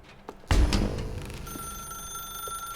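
A telephone rings in the video game The Stanley Parable, a loud burst followed by a sustained electronic ringing tone that hums on steadily, with no speech over it.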